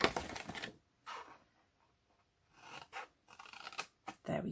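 Scissors snip straight up the score lines of cardstock for a heart gift bag, a few quick close cuts separated by short pauses, quiet and with no speech.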